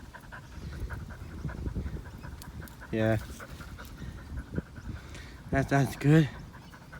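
A dog panting close by, rapid rhythmic breathing running under the scene, with a few brief voiced whines or yips and a person speaking briefly.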